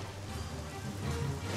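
Steady rain falling, a dense, even hiss of drops with no voices, holding at a moderate level for the whole short stretch.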